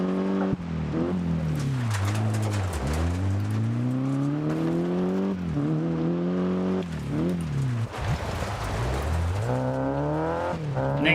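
Peugeot rally car engine in the Dirt Rally video game, loud and close, revving up and down through repeated gear shifts with rising and falling pitch sweeps and occasional tyre noise, no voices.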